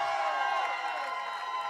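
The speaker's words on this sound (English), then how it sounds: "can I get a big round of applause?" An audience at a business launch event applauds and cheers in a dense, continuous roar of clapping and shouts that holds steady through the short moment before tapering slightly.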